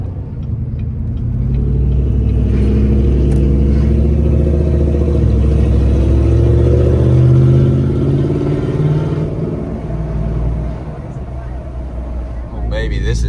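A deep truck engine rumbles loudly and rises in pitch as it revs to about 3,700 RPM while slowing without brakes, then eases off, with a steady low drone throughout.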